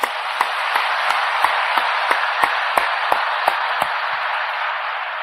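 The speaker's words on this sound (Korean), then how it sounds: "우리 하나님께 한 박수로 감사합니다." A church congregation applauds in thanks during a sermon, producing a steady wash of clapping. Sharp, evenly spaced claps repeat about three times a second above it.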